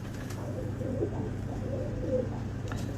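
Pigeons in a loft murmur low, soft coos that come and go over a steady background hum, close by and moderate in level, with no voices.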